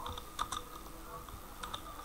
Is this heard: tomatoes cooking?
no